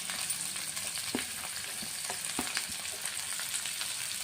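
Chopped onions and green chillies fry in tempering oil with dried red chillies for a tomato curry, making a low, even sizzle broken by a few soft stirring taps.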